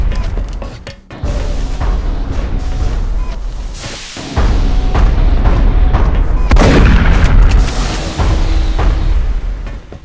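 Heavy gunfire and booming blasts from giant robots in the final battle of XCOM: Enemy Unknown, loud and continuous with dense rumbling bursts, sharp impacts and swelling explosive roars.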